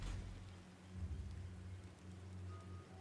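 Steady rain in the Total War: Warhammer strategy game, a continuous hiss with a low rumble underneath, moderately loud and without talk.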